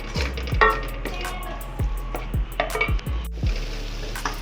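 Masala spices for stuffed tinda cooking in a pan, a steady close sizzle broken by repeated scraping and knocking strokes of a spoon against the pan, moderately loud with no voice.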